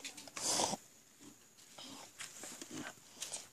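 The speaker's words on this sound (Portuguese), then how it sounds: "Ê, porquinho" Pigs grunting and oinking in a pen on a farm, with a loud burst near the start and scattered shorter grunts after, close by, mixed with people talking.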